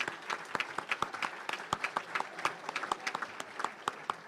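An audience claps to welcome guests at a Rotary meeting, steady, dense applause from a modest crowd, close and lively throughout.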